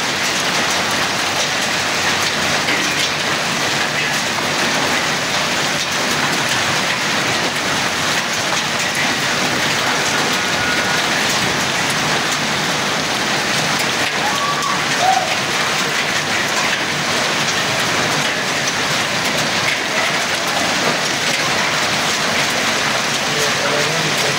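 Large hailstones fall in a hailstorm in Taxila, making a dense, steady roar of impacts that holds at an even level throughout, with no speech over it.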